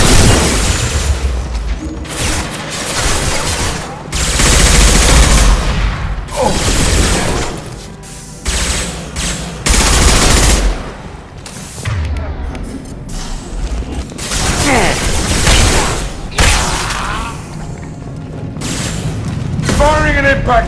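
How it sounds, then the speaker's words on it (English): Gunfire and a heavy impact shot in the Mass Effect 2 video game, sounding as loud, sustained bursts of shooting with booming thuds and mechanical clatter, and voices talking over the combat. "Firing an impact shot."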